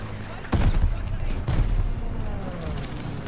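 Battlefield din from Call of Duty Vanguard at El Alamein: a loud grenade blast hits, then a second burst follows amid sustained gunfire and rumbling, with voices underneath.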